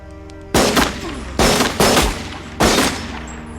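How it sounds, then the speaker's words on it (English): Gunshots ring out in a prison courtyard film scene, four sharp loud cracks spaced unevenly over a few seconds, each with a short echoing tail. "suddenly, he is shot dead by Hadley."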